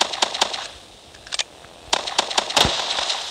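Rapid bursts of video game gunfire in Call of Duty, sharp cracking shots in clusters with short gaps, fairly loud and close, no talking.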